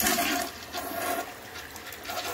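A 1998 American Standard Colony toilet flushes during a bowl wash test, with a loud, close rush of swirling water that stays strong throughout, without speech.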